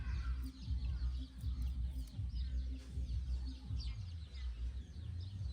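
Chickens cluck softly in a rural Lao setting, brief scattered calls over a steady low rumble of background noise.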